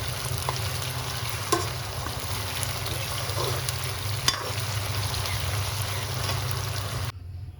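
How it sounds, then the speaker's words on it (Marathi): Potatoes sauté in a pan for sambar, giving a steady, close sizzle with scattered scraping clicks from stirring. No talking is heard before the frying sound cuts off near the end. "हे मस्त असं परतून घेऊ"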